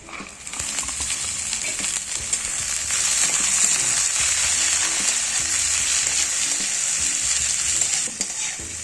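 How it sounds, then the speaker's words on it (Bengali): Carrots and beans added to lightly fried onions in a kadai sizzle loudly and steadily, with stirring scrapes and crackle building and holding for several seconds, no voices. "এবার এটাকে আমি হালকা করে একটু ভেজে নেব, খুব বেশি ভাজবো না।"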